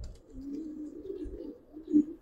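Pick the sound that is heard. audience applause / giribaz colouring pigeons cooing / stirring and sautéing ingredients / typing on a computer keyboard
giribaz colouring pigeons cooing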